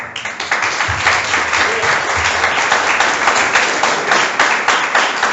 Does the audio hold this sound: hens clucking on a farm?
no